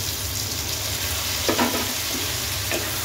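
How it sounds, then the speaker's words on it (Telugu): Onions and tomatoes sizzle in a hot pan while being stirred together, a continuous close frying hiss with a few spatula scrapes and clinks, no talking. "ఒకసారి అన్నీ కలిసేలాగా ఫ్రై చేసుకుందాం."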